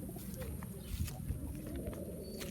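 Pigeons coo softly and repeatedly at a bird-keeping loft, a low throaty murmur under a steady background hiss, with no talk over it.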